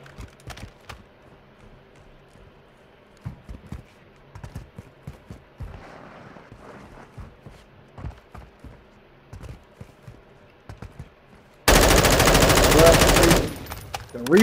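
A rifle fires in Modern Warfare 2 as short scattered bursts and single shots across the clip, then a sustained loud full-auto stretch near the end, with a player talking over the gameplay at times.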